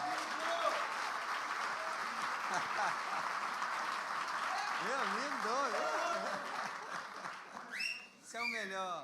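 Congregation at a church service applauding, a sustained, steady wash of clapping with voices calling and cheering over it, a louder shout rising near the end.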